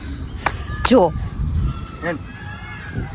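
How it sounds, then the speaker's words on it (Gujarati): A peacock near a temple gives loud, nasal wailing calls, two strong cries close by followed by a fainter one, with a person talking in the background. "જો ફ્રેન્ડ્સ મોરનો કેટલો અવાજ આવે છે જોરદાર"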